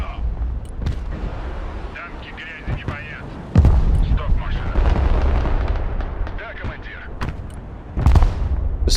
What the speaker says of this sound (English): Just hit that with some mortar fire